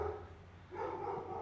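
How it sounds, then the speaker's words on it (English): A dog barks indoors during a children's drawing lesson: a short, muffled, fairly quiet burst of barking that sounds somewhat distant. No one speaks over it. "apologize for my dog"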